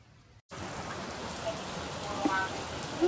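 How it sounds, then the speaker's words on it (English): Steady heavy rain hissing and pattering on a surface, starting abruptly after a brief gap and continuing loud and even, with a few faint chirps. "it's raining pretty hard"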